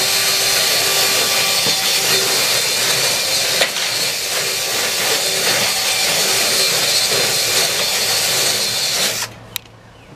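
A drill-driven scrub brush whirs loudly and steadily against the inside of a filthy plastic trash can, a continuous high-pitched grinding wash that runs for about nine seconds before cutting off abruptly.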